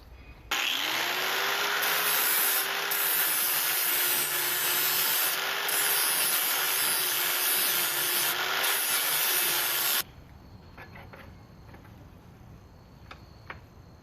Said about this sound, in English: we're going to start tapering these with a grinder until this fits in here and mates up with our cut lines